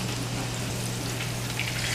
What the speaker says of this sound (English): I'm not frying them until done, but I'm frying them on the other side of done.